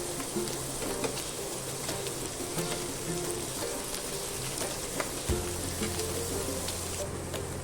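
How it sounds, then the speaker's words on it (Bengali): About 250 grams of paneer frying in a pan, with a continuous soft sizzle and sputter and scattered tiny pops throughout, steady and close with no talking. "পনিরটা সামান্য ফ্রাই করে নেব।"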